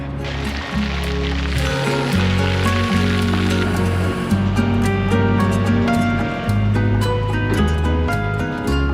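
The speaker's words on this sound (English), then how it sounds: "Yeah, it's still raining." Rain patters on a hard surface in the city of Newcastle, Australia, with scattered sharp drop hits, layered over a steady humming tonal background.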